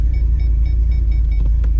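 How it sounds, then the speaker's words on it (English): A 700hp Mustang with a Corsa Sport catback exhaust, double X pipe, touring mufflers and off-road long tubes idles with a loud, steady, deep rumble close by. "Corsa Sport catback, the double X pipe with the touring mufflers and off-road long tubes"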